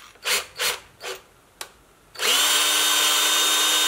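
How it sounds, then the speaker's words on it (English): A tap cleans out bolt threads on a Ford Sierra Sapphire RS Cosworth: three or four rough rasping strokes and a short click, then a loud, steady, whirring metallic grind that runs to the end. "I cleaned the threads out with a tap."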